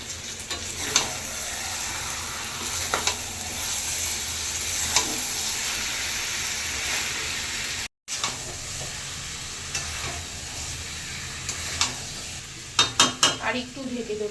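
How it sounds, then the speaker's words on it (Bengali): Mutton and fried potatoes are stir-fried together for mutton curry, a continuous sizzle broken by repeated scrapes and clacks of a spoon against the pot, with a quick cluster of metallic knocks near the end. "এবার ভেজে রাখা আলুগুলো দিয়ে কিছুক্ষণ মাংসটা কষাবো।"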